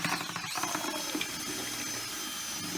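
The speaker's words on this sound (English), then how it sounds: "I'm just going to add a little water as I go." Water poured from a container into skim coat mix in a bucket, a steady running, splashing wash of liquid that fills the whole stretch, fairly close and continuous.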